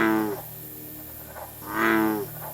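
Frogs croak in the background, two drawn-out, buzzing calls separated by a pause, moderately loud over a steady low hum.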